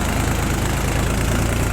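A Powertrac 434 tractor engine, working a harrow, runs at a steady loud throttle, a dense continuous drone with low rumble and no breaks, heard up close.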